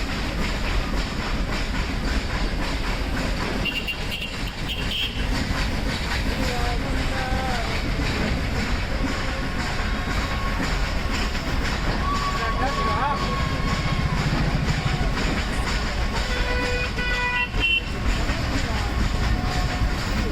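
The Nilgiri Mountain Railway toy train on the Ooty to Mettupalayam line runs with a loud, constant rumble and clatter, with brief tonal toots rising over it and a person talking now and then.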